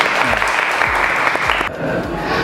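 Students clapping together in a vocational high school automotive classroom, a dense burst of hand claps lasting a couple of seconds with a steady rhythm, fairly close and loud, over low rumbling thumps, then cutting off abruptly.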